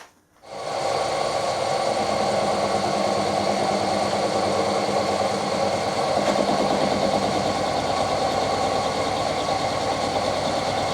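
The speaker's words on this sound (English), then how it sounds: "I'm just going to put a chamfering tool in and just go around the edges now" A metal lathe running steadily while a chamfering tool is taken around the edges of a camera mount part, with a constant loud motor whir and hum that starts up at once and continues evenly, without talk.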